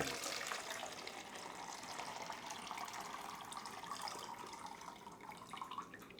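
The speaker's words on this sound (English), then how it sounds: "measuring the pour out time of the compact development tank" Liquid pours steadily out of a compact film development tank for about six seconds, a continuous, fairly close splashing and gurgling stream with no talking.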